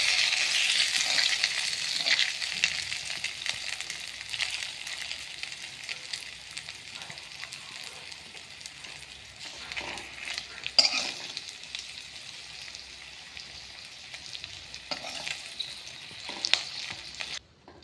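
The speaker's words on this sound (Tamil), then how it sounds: "இந்த மாதிரி ஒவ்வொரு இட்லியை போட்டு பரட்டி எடுத்துக்கலாம்" Idli pieces stir-fried in a pan give a steady, close sizzle with stirring scrapes throughout, rising in a few brief louder clatters near the middle and end.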